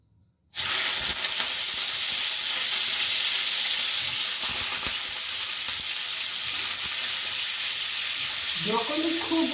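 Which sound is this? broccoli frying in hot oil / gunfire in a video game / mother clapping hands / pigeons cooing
broccoli frying in hot oil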